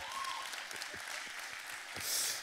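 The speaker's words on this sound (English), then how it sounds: "I deserve a hand clap or something." A church audience at a sermon gives a brief, moderate burst of hand clapping that swells near the end, with faint voices mixed in.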